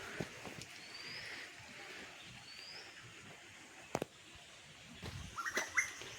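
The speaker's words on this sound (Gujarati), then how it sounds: "જો પંખીડાના અવાજ" Several birds chirp and call near a rocky waterfall in the Dholiya hills, with short bright calls scattered over a steady rush of falling water and a couple of sharp knocks.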